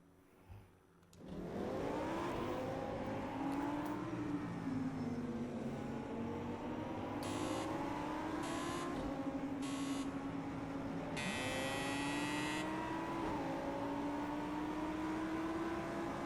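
Racing cars in a VR racing game with a field of 31 cars: a continuous engine whine that rises and falls in pitch, with intermittent bursts of high electronic buzz layered over it and no talking.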